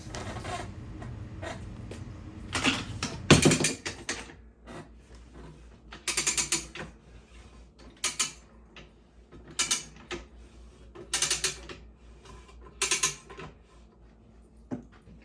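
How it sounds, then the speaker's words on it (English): A Rabaconda street bike tire changer works a motorcycle tire bead off its rim, giving repeated mechanical clanks, ratcheting clicks and creaks in irregular bursts, close and moderately loud, with no talking. "you'll see me spin the first bead off of this tire"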